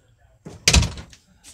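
A door shuts in a single solid thunk with a short rattle after, loud and close indoors, with muffled sounds before and after.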